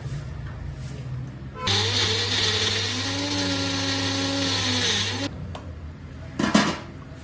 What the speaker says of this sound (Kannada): ಇದನ್ನ ಬೆಂದಿರೋದನ್ನ ಈ ತರ ಮಿಕ್ಸಿಗೆ ಹಾಕೊಂಡು ಪೇಸ್ಟ್ ಮಾಡಬೇಕು.